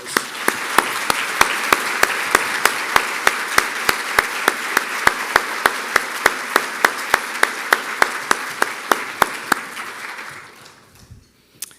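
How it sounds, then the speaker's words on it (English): A crowd gives a round of applause at an awards ceremony, broad clapping punctuated by a loud, regular beat of sharp claps nearby, then fading away near the end. "Would you join me in giving them a round of applause?"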